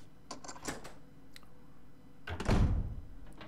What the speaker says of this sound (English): We can unlock this door now